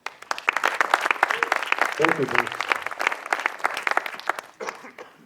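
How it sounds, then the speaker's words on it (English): A tech meetup audience gives a warm round of applause at the San Jose Tech Museum IMAX, a dense burst of clapping that fills the room while someone briefly speaks over it. "Let's give him a warm round of applause."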